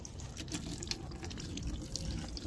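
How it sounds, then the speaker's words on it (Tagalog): Tap water splashing over a rain-wet motorcycle during a rinse, a faint steady wash of running and spattering water with small drips, no voices. "Basahin lang ng tubig para mawala yung acid rain."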